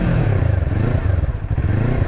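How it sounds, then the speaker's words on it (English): Close, loud motorcycle engine being revved in place with the clutch pulled in, a throaty, rumbling drone that pulses with the throttle and has no speech over it. "So I can put the revs on,"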